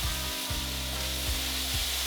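Green onion stems sizzle steadily in a hot pan of quinoa stir fry, a loud continuous frying hiss with a few soft stirring scrapes and no talk.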